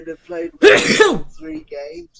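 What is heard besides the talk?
sneeze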